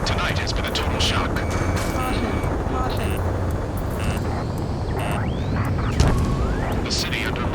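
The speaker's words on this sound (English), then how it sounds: "Gunfire and the roar of jets echoing through the streets." Bursts of gunfire crackle over a constant roaring jet engine drone, with sharp reports scattered throughout a dense, loud battle soundscape in the video game Ace Combat 7: Skies Unknown.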